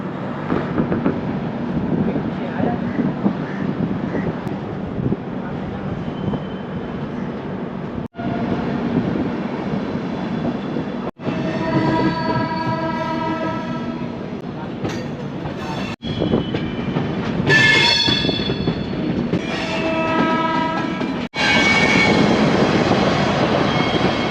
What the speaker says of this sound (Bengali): একটা ছেচল্লিশে ট্রেনটা মুজাফরপুর স্টেশন ছেড়ে বেরিয়ে যাচ্ছে